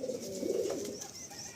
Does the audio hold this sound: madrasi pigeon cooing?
yes